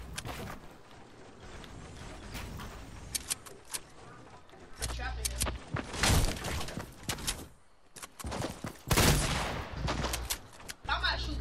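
Fortnite gameplay gunfire comes in irregular bursts of rapid shots and sharp cracks, loud at times. Players talk over the shooting throughout.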